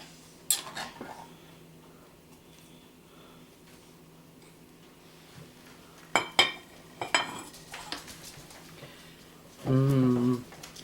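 A serving spoon scrapes and clinks against a baking dish while old-fashioned peach cobbler is dished up, with a few sharp scattered taps and a short dense scrape near the end in a quiet kitchen.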